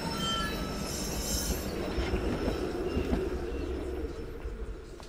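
A tram in Syberia: The World Before rumbles along its rails, steady low rolling noise with high metallic wheel squeal above it, continuous and close with no voices.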